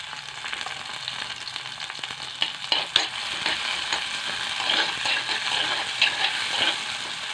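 Broccoli and chopped tomato sautéing in a pan: an even, crackling sizzle with light stirring clicks and scrapes, moderately close and steady, no talking.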